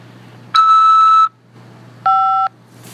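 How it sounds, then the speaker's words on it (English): Two electronic tones on a corrections facility's automated phone call line: a longer steady beep followed by a shorter, slightly lower one, clean and loud over a faint line hum. "After the beep,"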